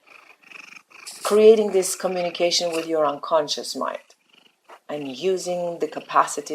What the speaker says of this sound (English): I'm sorry for the cat interruptions.